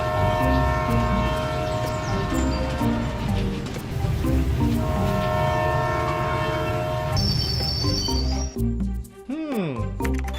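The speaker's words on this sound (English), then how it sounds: "Dinosaur train is ready." A cartoon dinosaur train rumbles along with a rhythmic clatter and sounds a horn, ending in a sweeping, bending whistle-like tone, with animated voices talking over it.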